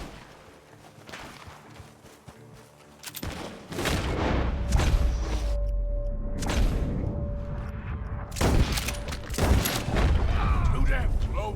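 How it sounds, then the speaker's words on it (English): Gunfire crackles from a barn in Red Dead Redemption 2, with a few sharp reports early on and then a dense, sustained burst of rumbling shots and booms, heard under game ambience. "The gunshots are coming from that barn."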